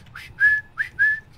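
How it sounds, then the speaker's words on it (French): A person whistles a few short, sharp notes, each sliding upward then holding, clear and close against near silence while playing a flight simulator. "À l'habitude, je siffle."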